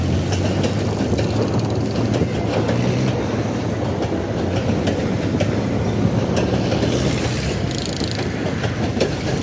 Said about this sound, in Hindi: देखिए अब ये ट्रेन गुजरेगी